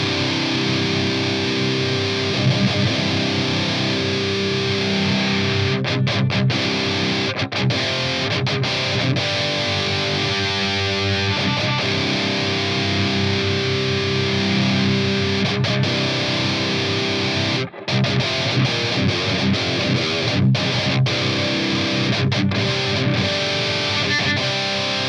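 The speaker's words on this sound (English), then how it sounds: "Let me mess with the distortion a little bit." A distorted electric guitar through a Boss Metalcore distortion pedal plays continuously for the whole stretch, gritty and fuzzy, with a brief dropout near the end.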